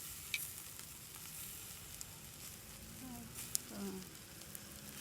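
Merguez lamb sausage, dorade royale fish and mushrooms sizzle on an outdoor barbecue grill, a soft continuous crackle with a few sharp pops, fairly faint.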